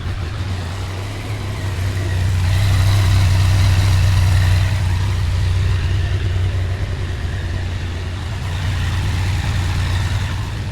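A Yamaha Tracer motorcycle engine idles steadily in a garage, a low continuous rumble that holds near and even, swelling slightly partway through, with no voices.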